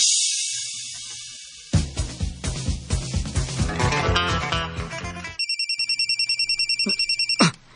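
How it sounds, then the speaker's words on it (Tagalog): A mobile phone rings with an incoming-call ringtone: a melodic tune with a steady beat, then a rapid repeated electronic trill, loud and close, with no talking. "Yes, si Rupa ni nanawag."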